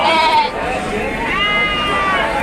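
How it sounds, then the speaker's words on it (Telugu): Young rams, four to five months old, bleat loudly and close by at a sheep and goat market, several wavering cries overlapping with crowd noise and voices. "మంచి మంచి పొట్టేలు పిల్లలు వచ్చినాయి."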